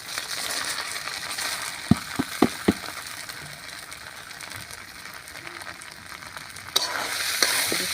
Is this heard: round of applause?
no